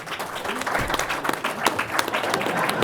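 Audience at a 2013 panel on the obedience research breaks into steady applause for someone arriving, a dense wash of clapping with a few louder individual claps standing out and faint voices underneath.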